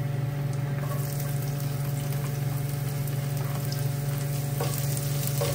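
Onions sizzle in hot oil for chicken caldereta, a steady close frying hiss with a constant low mechanical hum beneath and no talking.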